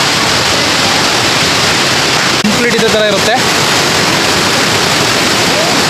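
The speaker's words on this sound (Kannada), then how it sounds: "ಈ ಕಾಡು ಮಧ್ಯೆಯಿಂದ ಹರ್ಕೊಂಬಂತಿರೋಂಥ ಫಾಲ್ಸ್ ಇದು." A forest waterfall on the Yana trek pours in a steady, loud broadband rush for the whole stretch, with someone speaking briefly over it midway.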